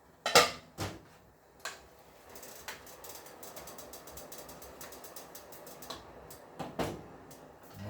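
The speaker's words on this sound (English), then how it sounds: "We'll give it a little stir." Spoon scraping and clinking in a cooking pot as food is stirred on an old-school stovetop, a handful of sharp metallic knocks and scrapes spaced irregularly over a low, steady cooking background, no voices.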